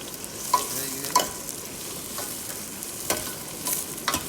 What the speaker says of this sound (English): fry the onions.